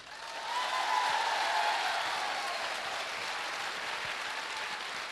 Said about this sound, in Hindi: लेकिन ताली तो दिखानी पड़ेगी ना।